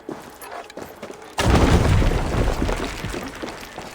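A loud explosion in Assassin's Creed Valhalla booms suddenly after a quiet stretch, then rumbles and crackles with scattered debris as it slowly fades.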